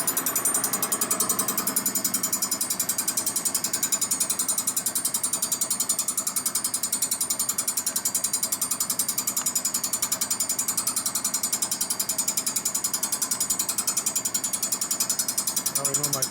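A cutter bores the cylinder base of a Harley panhead engine at low RPM, making a steady, rapid mechanical chatter and grinding hum that continues unbroken throughout.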